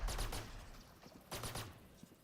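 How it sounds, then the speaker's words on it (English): A swarm grenade in Valorant goes off as two quick bursts of rapid popping blasts, one at the start and another about a second later, sharp and fairly close. "Swarm grenade out."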